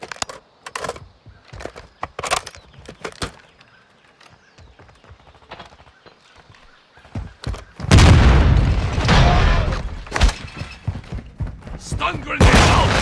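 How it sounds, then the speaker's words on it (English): Stun grenade going off in a shooter game: a heavy loud blast about midway, after sparse sharp clicks, thumps and footsteps, followed by dense sustained noise and scattered impacts; voices talk throughout. "Stun grenade out."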